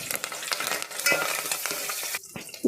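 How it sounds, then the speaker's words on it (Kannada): A tempering of mustard seeds, chopped onion and curry leaves fries in hot oil while being stirred, giving a continuous close sizzle with scraping strokes. It cuts off abruptly near the end. "ಈಗ ಒಗ್ಗರಣೆ ಫ್ರೈ ಆಗಿದೆ."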